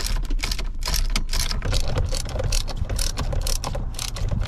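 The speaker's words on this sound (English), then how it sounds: "You're gonna pop your 8mm socket on the side there. Pull these 2 bolts." A ratchet with an 8mm socket backs out the bolts holding the airbag on a Terminator Cobra, a close, rapid run of sharp metallic clicks that continues without any talking.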